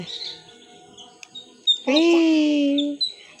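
A bird gives a few short chirps followed by one clear, sustained call, close and fairly loud, with faint voices around it.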